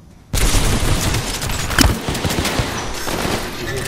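Gunfire erupts in Titanfall 2 on Xbox One: after a brief quiet start, a loud, dense burst of rapid shots runs continuously, with one heavier boom partway through.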